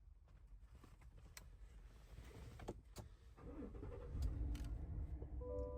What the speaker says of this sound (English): Let's go ahead and start up this car.